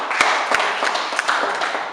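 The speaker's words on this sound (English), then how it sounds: "Round of applause for him" Audience clapping at a Yoruba World Assembly gathering: scattered, moderately close hand claps with sharp individual slaps over a steady wash of applause.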